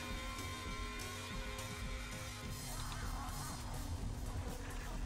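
Death sound from the rhythm video game Guitaroo Man, a dense, honking, distorted burst of game audio that fills the whole few seconds at steady loudness with no pause.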